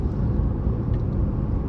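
Steady road rumble from inside a truck driving on a high-country road toward Mammoth, a low, dense drone of engine and tires that stays constant for the short stretch with no talking.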